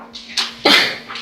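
A single sneeze in a courtroom, a short sharp burst with a quick intake just before it, close and fairly loud, over a faint steady hum.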